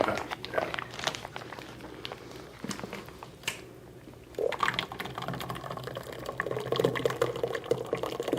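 Liquid poured into a 3.5-quart graduated container during a cleaning-products seminar, a steady watery trickle and fill rising after a brief pause midway, moderately close with no talk.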